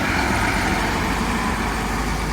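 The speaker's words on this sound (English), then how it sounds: "Oh, it's a garbage truck." A garbage truck rumbles past on a night street in Paramaribo, Suriname, a loud continuous engine and road roar filling the scene without letup.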